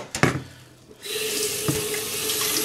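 Tap water runs into a kitchen sink to fill a kettle for tea in an area with hard, limescale-heavy water. A brief splash and clatter comes first, then a steady, close rush of flowing water.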